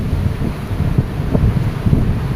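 Big ocean waves and strong wind at the seashore make a loud, continuous low roar, with heavy wind buffeting the microphone and the surf rumbling underneath.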